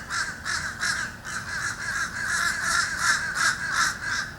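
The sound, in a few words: blackbirds cawing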